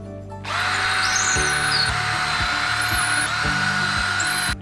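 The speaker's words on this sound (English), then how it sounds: "pre-drill the holes," A power drill whines loudly and continuously, pre-drilling holes for a wall-mounted handrail, with a steady high-pitched motor tone and faint rhythmic knocking underneath.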